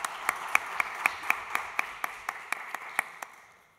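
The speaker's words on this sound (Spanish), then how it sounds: "les pido ahí un aplauso para nuestros invitadas e invitados" Applause for invited guests at a talk on cultural work comes from a small group clapping in a slow, sparse rhythm of distinct claps, fairly quiet and gradually thinning out.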